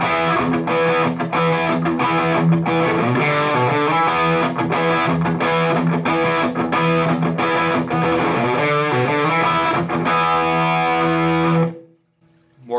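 A loud, crunchy overdriven electric guitar through a Paul Reed Smith MT 15 amp plays chugging chords and riffs for several seconds, then cuts off abruptly into near silence.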